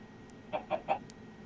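A chicken in the video game Minecraft gives three quick, soft clucks in a row, quiet and evenly spaced over a faint background hum.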